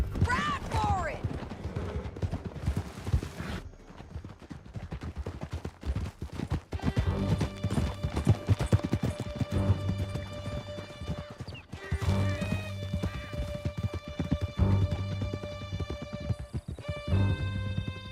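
Horses galloping in Red Dead Redemption 2, a loud, rapid clip-clop of hooves with a neigh near the start, under game music and a voice calling out.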